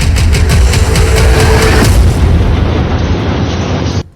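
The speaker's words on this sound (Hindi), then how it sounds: "इंच दर इंच इजरायली सेना बारूद बिछा रही है, धमाके पर धमाके हो रहे हैं" Heavy explosions in Gaza roll together as one continuous, very loud rumbling blast lasting about four seconds, dense and booming with no talk, then cutting off abruptly.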